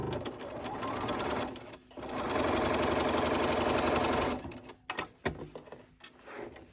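Sewing machine stitching pennant fabric on the diagonal, running in two close steady bursts with a short pause between them, followed by clicks and handling noises as it stops.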